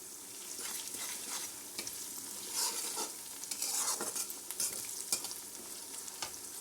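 Curry leaves and meal maker (soya chunks) stir-frying in a pan for a very tasty fry, giving a steady close sizzle with repeated scraping stirs and brief louder crackles, with no talking.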